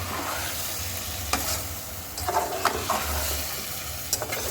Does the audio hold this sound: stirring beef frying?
yes